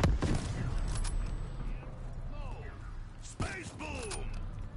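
Locust shotgun fired during Call of Duty Black Ops 3 zombies gameplay in the Revelations DLC: a few sharp, punchy blasts stand out against busy game noise, with voices talking over the action.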